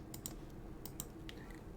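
Computer keys pressed in a quick irregular run of light clicks, close and fairly quiet, with no voices.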